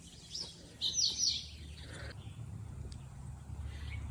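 Birds chirping in a wildlife garden, a few bright, close tweets in a quick burst near the start, then fainter calls over a steady low rumble of distant traffic.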